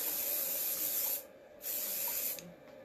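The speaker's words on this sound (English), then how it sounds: "I'm going to spray this side now." Two bursts of hairspray hiss onto hair, a long steady one followed by a shorter one after a brief pause, close and fairly loud.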